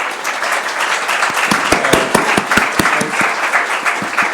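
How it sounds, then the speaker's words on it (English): Conference audience applauding the speakers at a NATO security forum, a dense round of clapping with sharp individual claps standing out, loud and steady throughout. "I would like to ask you to thank all of our speakers with a round of"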